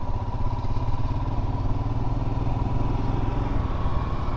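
A Royal Enfield Himalayan motorcycle rides off-road with a loud, close, steady single-cylinder engine thump. The pulse is rapid and even, with a faint clatter underneath.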